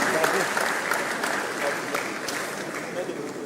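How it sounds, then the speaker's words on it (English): Audience applause at the Invest Lagos business summit, a dense, steady wash of clapping from a large crowd that carries on for several seconds at moderate loudness, with a faint voice underneath. "Can we give everyone a round of applause,"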